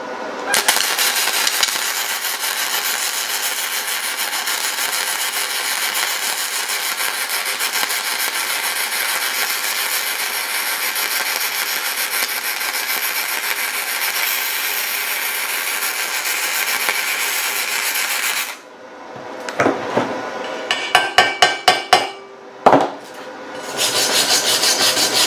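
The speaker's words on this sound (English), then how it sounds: "This thing will MIG weld, and it MIG welds nice" A MIG 135 Pro welder laying a MIG bead, a steady, dense crackling sizzle that runs unbroken for a long stretch, then stops and gives way to a few short bursts and pops.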